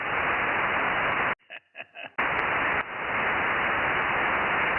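Loud hissing radio static on a 70cm amateur radio net, steady white noise cut by a short squelch gap with faint tones and clicks, then the hiss returns and continues.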